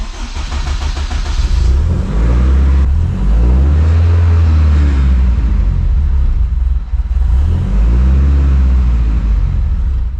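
A Honda Civic Type R converted to all-wheel drive cranks and fires up, then idles and revs loudly and close, its deep engine rumble rising and falling throughout.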